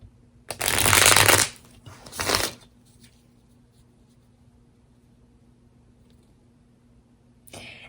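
A deck of tarot cards is shuffled in two quick bursts close by, then a long quiet stretch before a brief final shuffle.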